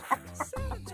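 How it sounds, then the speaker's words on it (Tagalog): A few short rooster clucks, close by, followed by a low rumbling background. "Dalawa yung tandang na manok."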